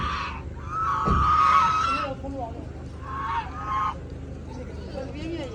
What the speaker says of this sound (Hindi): और यहाँ पे चेक करें बड़ी डक्स भी हैं।